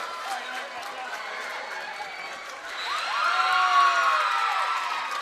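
Pickett County basketball fans in a packed high school gym jeer and shout as an escorted man leaves, a steady crowd roar that swells louder midway with whoops and voices.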